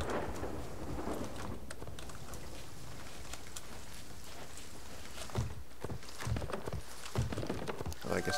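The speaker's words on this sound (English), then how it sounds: "So I'm at Ancient Spire in the middle of a storm." Steady rain and rumbling thunder from a storm in the video game Sea of Thieves, a continuous wash of noise with a few heavier thumps and footstep-like knocks toward the end.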